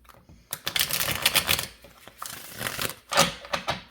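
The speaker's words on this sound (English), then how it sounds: "One more good shuffle." Cupid's Arrow Oracle cards being shuffled in quick, papery riffling bursts, close and fairly loud, with brief pauses between runs and almost no talking.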